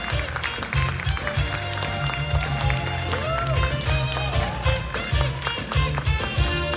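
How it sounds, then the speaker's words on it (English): An audience at an honorary award ceremony for an animation director applauds steadily under music playing throughout, the clapping dense and continuous rather than standing out on its own. "Please welcome Mr. Musker to the stage with a big round of applause."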